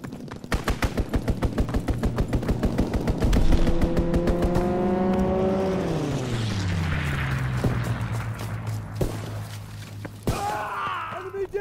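A strafing run in Call of Duty: WWII: rapid machine-gun bursts rattle close by, then an aircraft engine drones with a falling pitch as it passes over, and a few sharp shots follow near the end.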